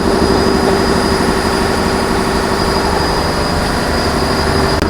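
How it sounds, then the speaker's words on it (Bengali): A large engine runs aboard a crowded passenger launch ship sailing from Dhaka to Barisal, a loud, steady mechanical drone with a constant hum and whine, filling the space without pause and no talk. "বড় ইঞ্জিন ভাই দেখুন"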